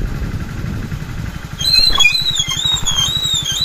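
A motorcycle engine with water in its cylinder liner putters steadily at close range, its beat growing louder and rougher partway through, with a high whine riding on top.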